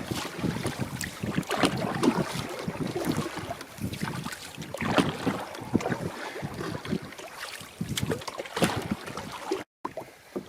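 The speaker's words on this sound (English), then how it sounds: "the wind is coming in bursts" Gusty wind buffets a canoe on a Scottish loch, a steady roaring rush that swells and eases in bursts, close and loud against the microphone, with no talking.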